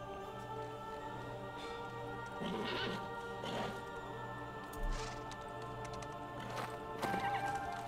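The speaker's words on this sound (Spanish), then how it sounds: "Muy justo ha saltado, el caballo." Horse hooves clip-clopping at a gallop with an occasional whinny in Shadow of the Colossus on PS4, steady close hoofbeats over a constant low game hum with brief crashing bursts.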